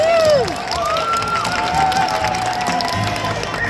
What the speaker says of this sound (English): Let's give a round of applause for our volunteer,